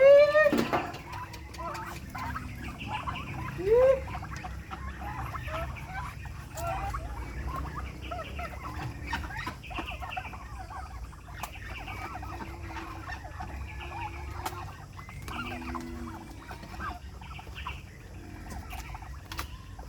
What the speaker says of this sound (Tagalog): Ngayon, pakainin na natin itong mga alaga natin na pabo